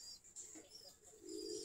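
Pigeons in a loft with nesting birds sitting on eggs, soft low cooing that swells toward the end over faint background chirps, quiet and close.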